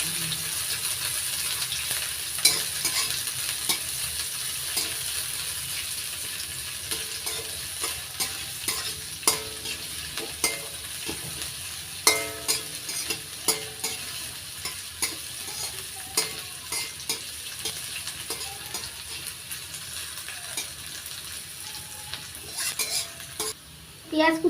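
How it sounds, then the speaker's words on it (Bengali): Chopped onions fry in a hot pan after dried red chillies, with a steady close sizzle and frequent scraping and clinking of a spatula stirring, no voices. "এবার দিয়ে দিচ্ছি পেঁয়াজ কুচি। পেঁয়াজ কুচিটা একটু লালচে করে ভেজে নেব।"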